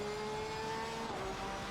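Race car engine droning steadily and rising in pitch under throttle on the Donington circuit in a racing game, a loud continuous tone with a quick gear-change dip near the end.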